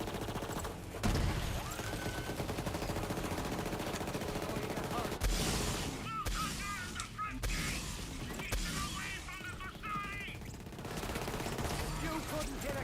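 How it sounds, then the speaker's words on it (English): Rapid bursts of video game gunfire from Borderlands 3 crackle in quick volleys, with sharp repeated shots and clustered fusillades over a busy game soundscape, moderately loud. "shooting them real quick that time"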